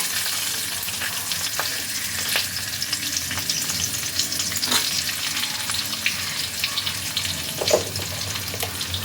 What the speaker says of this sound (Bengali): এবার আমি এতে দিয়ে দিচ্ছি কেটে রাখা আলুর টুকরো।